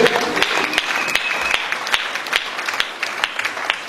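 A congregation in a church applauds during a women's convention service, with steady, dense clapping from many hands that fills the room, fairly close and loud, with no one speaking over it.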